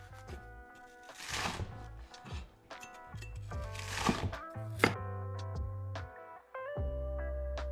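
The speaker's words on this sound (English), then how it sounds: "I'm going to chop it fine first and then going to squeeze it." Knife finely chopping Asian cabbage on a wooden board for Uyghur steamed bun filling, close thunking chops in uneven bursts with short pauses, over a steady tonal background hum.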